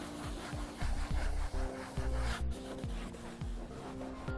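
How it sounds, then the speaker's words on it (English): Griot's Garage dual weave interior towel, tight knit side, buffing a car interior, giving steady close rubbing and wiping strokes in a repeating rhythm with no voices. "we're gonna take our tight knit weave side and begin to buff it out."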